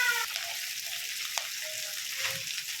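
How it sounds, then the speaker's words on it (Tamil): Drumstick leaves sautéing with golden-browned onions in a pan, a soft steady sizzle with light stirring scrapes, close and continuous throughout. "வெங்காயம் நல்லா பொன்னிறமாக வதங்கினதும் நம்ம எடுத்து வச்சுருக்க முருங்கைக்கீரை நல்லா வதக்கிக்கலாம்"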